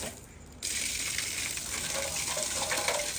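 Water from a newly fitted submersible pump suddenly gushes out after a short quiet start, then keeps pouring in a steady, loud rush.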